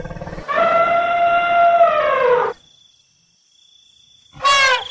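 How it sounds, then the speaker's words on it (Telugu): An injured elephant trumpets loudly in pain, one long harmonic cry of about two seconds, then near silence, then a second rising shriek starting at the end. "ఏనుగు నొప్పితో అటు ఇటు పరుగెడుతూ గట్టిగా అరవసాగింది."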